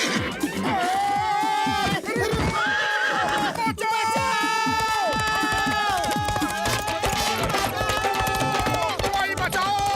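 A horse in a cartoon wedding scene whinnies in long, rising and falling cries over busy music, with quick clip-clop hoofbeats and clattering sounds mixed in, loud and close throughout.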